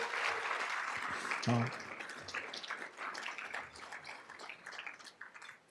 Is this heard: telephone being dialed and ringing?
no